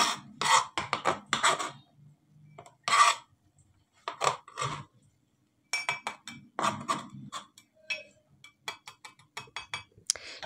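Small lemon pieces dropped into a drinking glass, giving a string of light clinks and taps on glass separated by short pauses, close up and moderately loud, with no talking.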